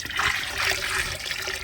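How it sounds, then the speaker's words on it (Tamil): A flower-based liquid fertilizer solution is poured into water buckets with a close, continuous splashing gurgle that surges in brief waves over under two seconds. "இந்த தண்ணியை 2 பக்கெட்லேயும் இதில் பாதி அதில் பாதி ஊற்றிக்கலாம்"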